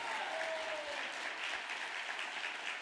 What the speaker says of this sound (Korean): 감사의 박수를 올려주면 좋겠습니다